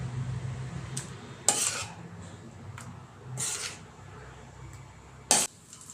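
Palak paneer scooped from a pan onto a plate, with scattered spoon scrapes and a few sharp metallic clinks spread over a fairly quiet background.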